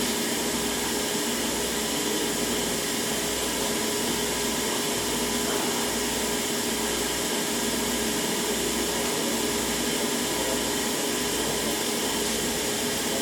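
Spin processor whirring steadily as it spins a thin wafer through its dry step, a constant loud broadband rushing hum with a faint low pulsing underneath and no voices.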